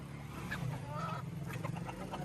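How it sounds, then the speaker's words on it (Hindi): Desi chickens, roosters and hens in a Punjab village cluck and squawk faintly in short overlapping calls over a low background hum. "चार बदमाश मुर्गे हैं और मुर्गियाँ हैं"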